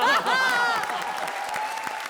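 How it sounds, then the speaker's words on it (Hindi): Studio audience applause on the Hindi comedy show Comedy Circus, a dense, steady wash of clapping, loudest at the start and then evening out, with a brief bright vocal-like tone over the opening moments. "लेडीज एंड जेंटलमैन, जोरदार तालियां एक बार फिर चैलेंजर्स वीआईपी और सूरज के लिए"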